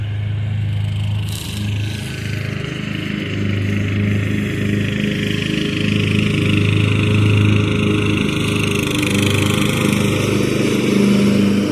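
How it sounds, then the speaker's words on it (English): A Craftsman riding lawn mower cutting grass, its engine droning loud and close in a continuous steady hum with slight shifts in pitch throughout, no talking over it. "trying to keep the camera focused towards the ground right now, just because that lawnmower sounds really cool."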